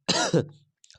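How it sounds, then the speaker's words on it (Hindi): A male math teacher suffering from a cold and fever coughs twice in quick succession, a close, harsh, throaty burst that trails off into quiet, with a faint rustle afterward. "इसलिए खांसी उससे ज़्यादा आ रही है"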